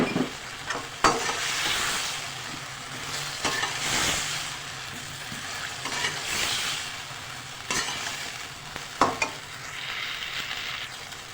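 Chopped tomato with turmeric powder, nigella seeds and crushed red chilli frying in a pan for a potato and spring onion sabzi, a steady close sizzle broken by several sharp scrapes of stirring.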